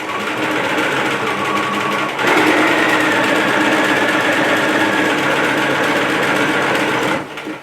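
A sewing machine stitches an apron in one loud, steady run of rapid whirring, picking up speed partway through and slowing at the end.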